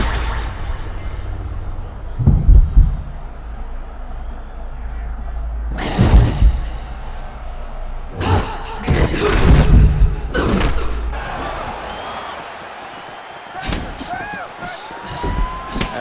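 Strikes thud and slam in EA Sports UFC 6 during a women's mixed martial arts bout, several heavy irregular impacts spaced across the clip, some in quick pairs, with commentators talking throughout.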